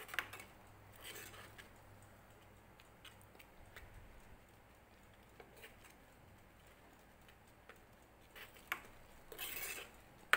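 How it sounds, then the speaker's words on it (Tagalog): Utensil stirring an oatmeal mixture with egg in a bowl, giving faint, scattered scraping clicks against the bowl with a few louder taps near the end, quiet and without talk. "Mix, mix, mix."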